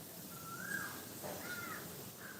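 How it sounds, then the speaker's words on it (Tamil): Crows caw a few times in the distance, faint against a steady hiss of windy outdoor background noise. "காக்கா ஒரு பக்கம் கத்துது"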